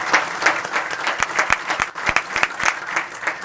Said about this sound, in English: Let's give them a round of applause in Automotive Service Technician.